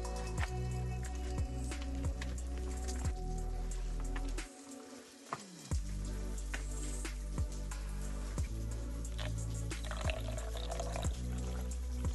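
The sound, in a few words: water pouring or dripping inside a cave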